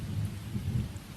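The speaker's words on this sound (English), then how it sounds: "the rain is still coming down in sheets." Heavy rain pours steadily with a deep thunder rumble underneath, a dense, low storm ambience with no voices.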